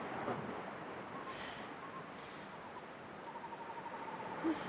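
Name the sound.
water waves heard in a video game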